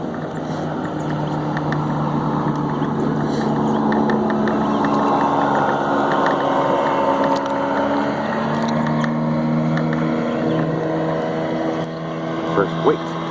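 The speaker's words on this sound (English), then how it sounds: "Got a boat getting ready to come up and pass me in just a minute." An outboard motorboat drones steadily nearby as it comes up to pass a kayak on open water, a continuous engine hum that holds throughout with small splashes near the end.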